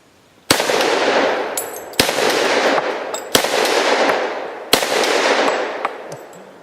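Four loud single shots ring out from a Thompson M1A1 short-barreled rifle fired at cinder blocks outdoors, evenly spaced about a second and a half apart, each with a sharp crack and a long trailing echo.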